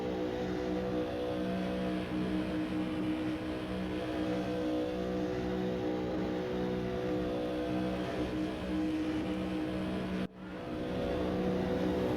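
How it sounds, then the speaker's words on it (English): Ford Mustang IMSA GTO race car engine in the RaceRoom racing game at Sonoma revs continuously with a sustained, droning roar, broken by one brief dip near the end. "We got someone just like pegging the throttle and letting the engine rev."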